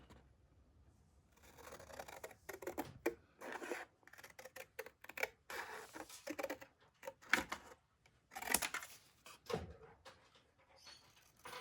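Scissors snip through craft cardstock in a quiet series of short, uneven cuts, close by with no talking.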